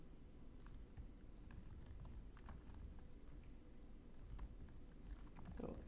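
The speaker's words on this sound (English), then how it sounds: "I think if I start typing it on the right-hand side" Someone types on a computer keyboard while coding a World Cup live score app, producing faint, irregular key clicks in quick bursts over a quiet background.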